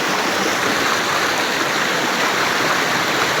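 A stream swollen by heavy rain and snowmelt, overflowing its banks in places, rushes continuously, a dense, loud roar of churning water with no pauses.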